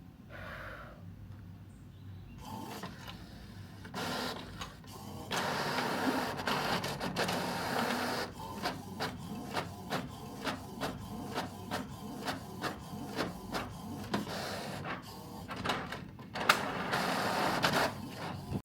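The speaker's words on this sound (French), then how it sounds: "Il est temps d'imprimer le calendrier, en tout cas la première page de janvier du calendrier" An inkjet printer prints a calendar page, opening with quiet whirs and clicks, then a longer stretch of rhythmic mechanical passes with carriage movements and feed noises, close and moderately loud.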